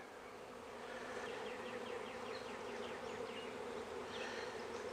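Honeybees buzz steadily and close around an opened double-deep hive during a frame inspection, a dense continuous drone that swells slightly with brief higher whines of individual bees passing near.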